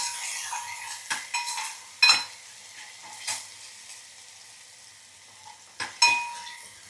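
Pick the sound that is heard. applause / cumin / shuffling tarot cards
cumin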